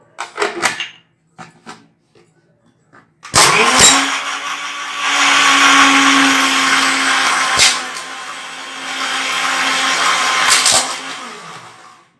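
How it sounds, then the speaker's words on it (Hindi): An electric grinder blending garlic chutney with tamarind pulp whirs loudly and steadily for several seconds after a few brief clicks, its motor droning then easing off at the end. "थोड़ा सा ग्राइंडर और चलाएंगे"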